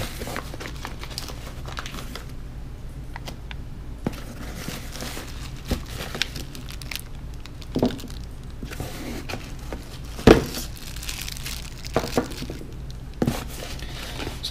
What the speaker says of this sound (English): So these are all in plastic bags.